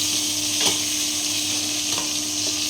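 Food sizzles steadily in oil on an induction cooker while it is being stirred, with a constant hiss and a few soft scraping knocks from the utensil. A faint electronic hum runs underneath, and nobody speaks.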